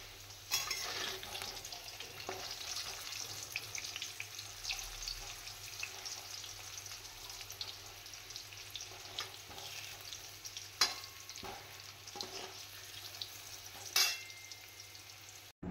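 Ginger, cumin and coriander powder are stirred into fried potatoes for a Bengali chicken dum pukht, giving steady oil sizzle under scraping spoon strokes, with a couple of sharper clanks against the pan.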